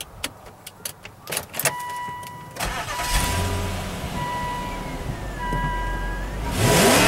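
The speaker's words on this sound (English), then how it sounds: "2009 Volvo XC90" A 2009 Volvo XC90 is started from cold: a few clicks and knocks, then the engine cranks and catches into a steady close idle with a whine, then revs up sharply near the end.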